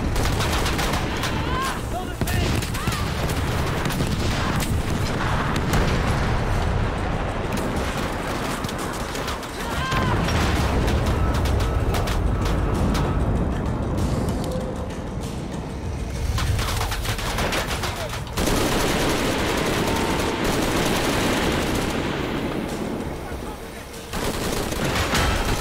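Shadow of the Tomb Raider: a helicopter opens fire with continuous heavy automatic bursts, loud and close, rattling on for most of the stretch with brief pauses, while voices talk intermittently over the roar.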